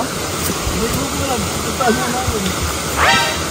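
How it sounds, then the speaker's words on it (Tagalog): Waterfall in Zambales, a constant rushing roar of falling water heard up close, with people's voices chattering over it. "Pangalawa pong falls to."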